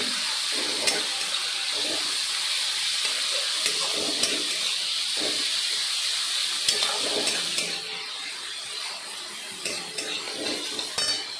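Ginger-garlic paste and ground cumin sizzling in a hot pan, a steady crackling hiss with scattered stirring clatter, easing slightly in the latter part.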